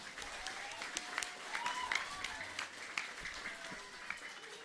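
A church congregation at a Pentecost Sunday service of GKPS Cililitan claps for the Sunday school teachers, a steady patter of moderate, slightly distant applause with a voice faintly present.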